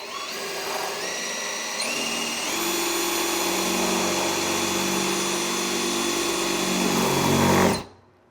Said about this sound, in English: I used a drill press to make a 3/8 hole